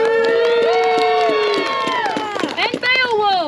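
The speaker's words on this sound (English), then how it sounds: "let's give a round of applause for our actors" A theater audience at a Beowulf stage performance cheers and shouts for the actors, with loud overlapping voices whooping over scattered clapping.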